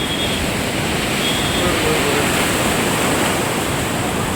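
Strong sea waves at Manora Beach in Karachi make a continuous loud wash of surf, a dense, unbroken roar close by with no separate breaks standing out.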